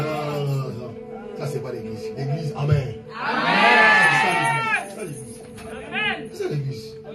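A church congregation cheering and acclaiming, a loud swell of mixed shouting and whooping voices rising over a murmuring crowd, with talk and scattered calls before and after.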